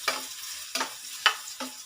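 Ginger being stirred and sautéed in a hot pan for ginataang tilapia, four sharp scraping stirs spaced about half a second apart over a quiet, steady sizzle.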